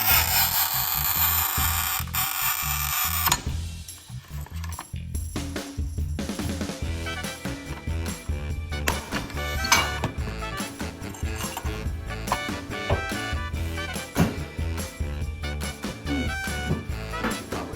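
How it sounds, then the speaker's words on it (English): Cheap manual tile cutter scoring backsplash tile, a gritty scraping rasp at first, then a steady run of rough rubbing and clicking strokes, close and loud. "This cheap little cutter can handle a 3-5/8 cut."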